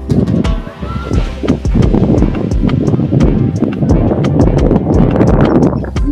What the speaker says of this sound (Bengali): দেখুন কি সুন্দর হাওয়া বইছে, একবারে ফুরফুরে হাওয়া, গরমের দক্ষিণা বাতাস